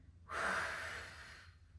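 A single close, soft inhale through the nose during a Pilates exercise, lasting about a second and fading out, with no talking.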